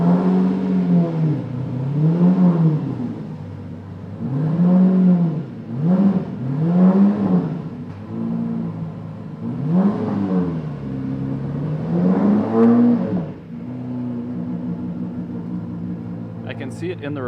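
A 1.9 liter DG water-cooled boxer engine from an '85 revs in a series of rising and falling throttle blips, loud and close, then settles back to a steady idle.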